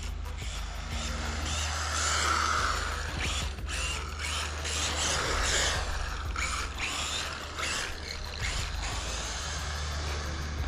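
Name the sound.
Losi NASCAR RC car with Furitek system driving at 70% throttle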